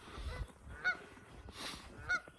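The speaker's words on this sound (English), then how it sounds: "Those geese are going to be happy to see me leave" Geese honk at a forest preserve on a foggy levee, two short honks about a second apart over faint outdoor rumble and wind, fairly distant and not very loud.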